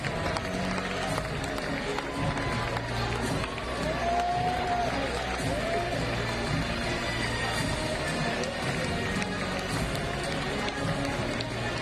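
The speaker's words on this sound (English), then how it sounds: "Einen Riesenapplaus nochmal für die 3 stärksten Burschen." A large audience applauds and cheers the top three finalists of the Bloc Summer Masters bouldering competition in Graz, 2022: a dense, continuous, loud wash of clapping and crowd noise with voices mixed in.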